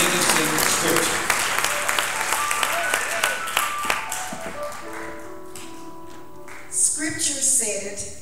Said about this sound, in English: Give Jesus a clap offering as we prepare.